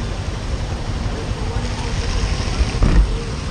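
Motorcycle riding, heard as heavy wind buffeting and low road rumble around the rider, steady and close with a brief thump near the end, while someone talks over it.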